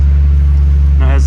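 Engine of a 1998 Nissan Skyline R34 GTT with a GTR face swap running just after a cold start, a loud steady low idle rumble close by, with a brief voice over it.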